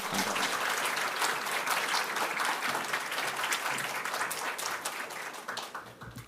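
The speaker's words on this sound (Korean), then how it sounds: "박수로 맞이하겠습니다" Korean church congregation applauding to welcome a visiting pastor at an early-morning autumn revival service, dense sustained clapping filling the room and tapering slightly toward the end.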